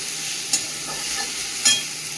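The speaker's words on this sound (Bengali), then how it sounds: "মাছের ঝালের জন্য এখানে মশলাটা আগে ভেজে নিচ্ছি" Chilli, tomato, ginger, garlic and onion frying together as a spice base for a Bengali fish curry, a steady soft sizzle with two brief sharp scrapes or clinks of a spoon against the pan.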